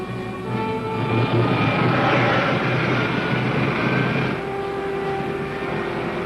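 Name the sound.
rocket main jets firing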